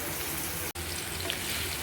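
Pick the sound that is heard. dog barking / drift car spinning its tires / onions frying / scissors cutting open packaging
onions frying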